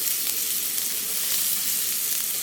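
Onions and garlic frying in a pan for lasagna, a steady dense sizzle holding even and close throughout with no voices.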